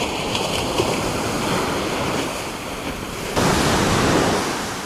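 Ocean waves wash onto a huge, empty Malibu beach with steady surf noise and wind buffeting, and a louder surge of breaking water near the end.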